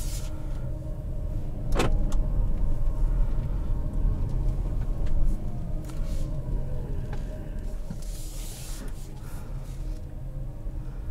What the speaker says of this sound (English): You can hear it's in full electric mode right now.